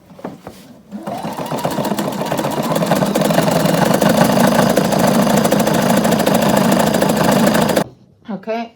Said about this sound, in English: I'm going to go ahead and stitch right down here